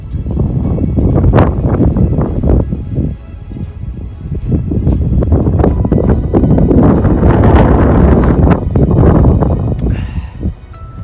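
Strong wind buffets a high mountaintop in the Smokies after rain, roaring close and loud in uneven gusts that surge and ease with brief lulls, with no voices.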